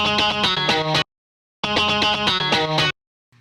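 Two chopped bursts of a distorted, effects-heavy sample, each about a second long and separated by silence, with a faint tail at the end.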